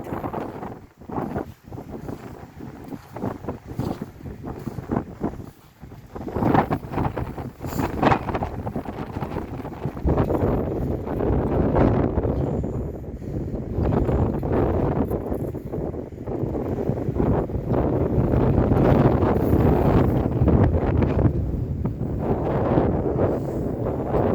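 Wind gusts across an outdoor cemetery in Colchester, Vermont, buffeting the microphone in loud, rumbling waves that swell and ease without pause for the whole stretch.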